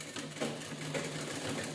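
A sewing machine runs a second line of stitching along the edge of a square cushion-style seat for a devotional shrine, a steady mechanical whir heard close and continuous.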